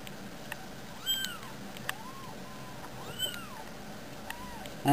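Kittens with their mother cat give several thin, high, rising-and-falling meows, spaced apart and fairly close, over a soft steady background hum.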